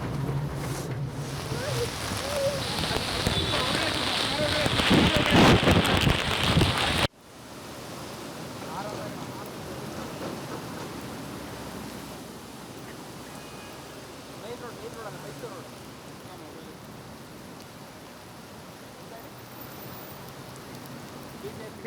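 Heavy late-night rain in Bengaluru pours in a dense, continuous hiss, louder for the first several seconds and then settling into a steadier, softer downpour.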